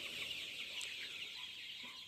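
Chickens 26 days old cluck steadily in a busy farm flock, a dense continuous chatter of fowl with no voices.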